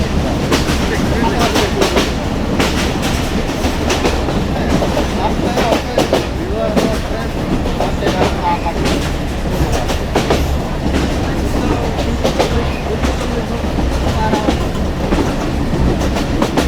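A passenger train runs along the rails, heard from inside the carriage as a loud, continuous rumble with repeated clickety-clack beats from the wheels and faint voices in the background.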